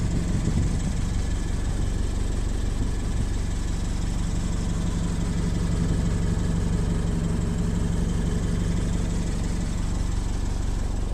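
A 2013 Scion FR-S idles steadily, heard from under the car near the rear: an even, continuous engine hum with a faint mechanical buzz and no speech.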